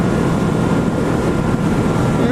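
A 2015 Kawasaki Vulcan S motorcycle engine runs steadily, producing a continuous low, rumbling drone mixed with wind rush, with no breaks or pauses.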